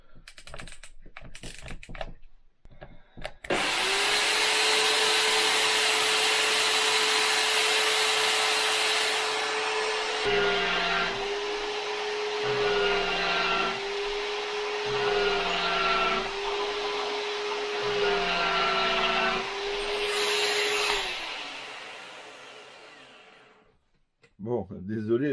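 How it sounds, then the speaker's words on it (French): Electric machine switched on and running flat out in hammer mode, a loud steady high whine with rhythmic pulsing hammering partway through, near and dominant for about seventeen seconds before cutting out. "Alors là, je vais allumer la machine. Ça va faire un boucan du diable parce qu'elle va tourner à fond en plus."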